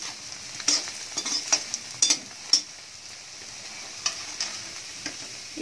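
Paneer cubes fry in hot oil in a kadai, a soft continuous sizzle broken by several sharp metallic clinks and scrapes of a utensil stirring and lifting the pieces.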